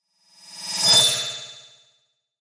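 A single bright notification ding rings out clearly, swelling and then fading over about two seconds, followed by a brief abrupt burst at the very end.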